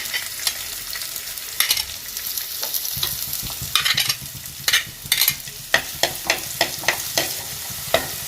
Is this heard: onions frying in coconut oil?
yes